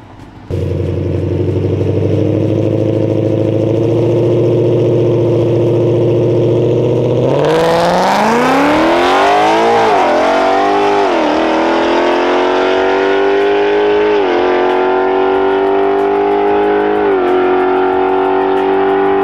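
A stock drag racing car at the drag strip, its engine idling steadily before revving hard and loud, then holding high revs with several sharp throttle blips, close by and with no talk over it.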